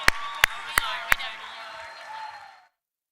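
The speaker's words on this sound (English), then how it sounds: "will y'all give them a huge round of applause" Short burst of audience applause at a President's Club night event in Washington DC, opening with four sharp, evenly spaced claps over a broad wash of crowd clapping that fades out after about two and a half seconds.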